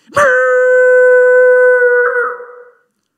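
A man imitates a dog howling, one loud, sustained tonal howl held for about two seconds before it wavers and trails off, with no other sound around it.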